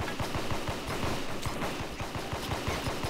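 Rapid gunfire in the video game TeeWorlds crackles in a dense, steady stream of quick shots, loud and continuous for a few seconds.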